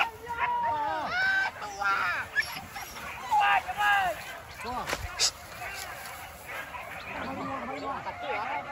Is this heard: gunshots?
no